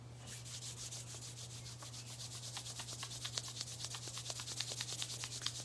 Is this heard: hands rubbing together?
yes